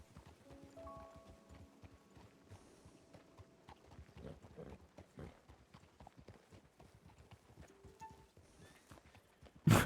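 Steady clip-clop of hooves trotting at a moderate pace, with soft game ambience and faint tones in the background, ending in a brief loud burst.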